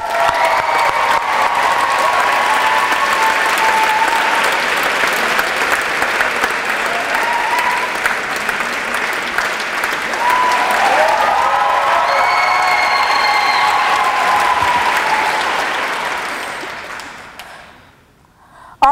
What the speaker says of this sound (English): Applaud the poet. And please keep that applause going.